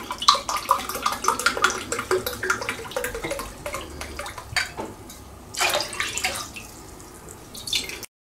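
Two glasses of vinegar splash and trickle into a pot of water in uneven bursts, with dripping and clinking sounds nearby, fairly close and moderately loud.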